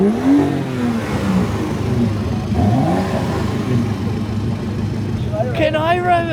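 A BMW M4 idles and revs at a red light during a track event at a BMW festival, its engine note rising and falling steadily throughout, loud and close beneath ongoing conversation inside the car.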